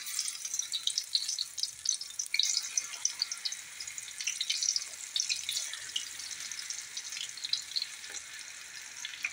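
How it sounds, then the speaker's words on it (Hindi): Pakoras frying in hot oil, a steady dense crackling sizzle that fills the whole stretch, fairly close with no talk. "अभी हम पकौड़े फ्राई करने लगे हैं।"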